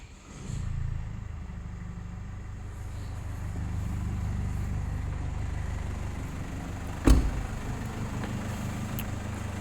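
A Mercedes GLC 250d diesel engine starts and settles into a steady, low idle heard from close by, with a brief louder knock partway through and no talk.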